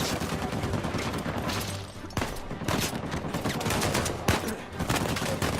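Rapid gunfire from a firefight in the Uncharted 4 video game, dense crackling shots and bursts running continuously at close range with a few sharper loud cracks.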